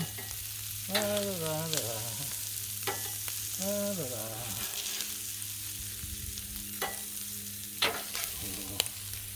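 Shrimp fry on a Blackstone griddle with a steady close-up sizzle, broken by a few squeaky scraping sweeps and light spatula clicks.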